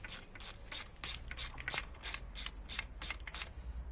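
A socket wrench with a 10mm socket ratchets a bolt on a 3.5hp four-stroke Mercury Mariner outboard, giving about a dozen quick, evenly spaced clicking strokes, close up and fairly quiet.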